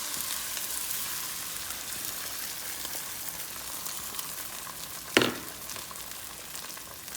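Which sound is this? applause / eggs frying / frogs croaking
eggs frying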